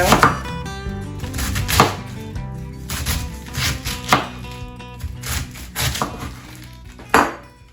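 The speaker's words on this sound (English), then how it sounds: "So what you want to do is cut this into thin shreds." Knife chopping cabbage into thin quarter-inch shreds on a kitchen board, with repeated close, fairly loud cuts in an uneven rhythm and no talking.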